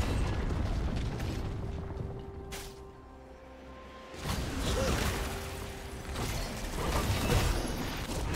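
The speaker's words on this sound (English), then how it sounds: "Team's turret has been destroyed." A turret crumbling in the League of Legends video game during a top-lane match between Illaoi and Yone, heard as a dense booming, crumbling burst that fades into a brief lull before another loud surge of game effects.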